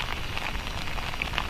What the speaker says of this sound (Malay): Sekarang kat luar ni memang hujan dan gelap.